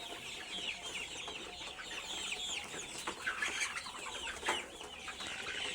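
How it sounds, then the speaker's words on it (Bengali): A flock of 52-day-old brown cock chickens on a farm clucks steadily in a dense, overlapping chorus, moderately loud and close, with no voices. "এগুলো ব্রাউন কক, আজকে 52 দিন বয়স।"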